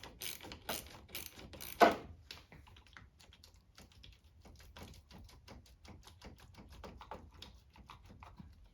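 A 10 mm ratchet clicks as it loosens the negative battery terminal on a 2012-2015 Honda Civic, giving a brisk run of close, dry ratcheting ticks that begins loud and settles into a steadier, quieter clicking.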